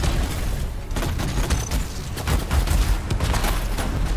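A combo detonation in the sci-fi shooter Anthem sets off a dense barrage of blasts and rapid gunfire-like cracks, loud and continuous with booming low thumps scattered across the stretch.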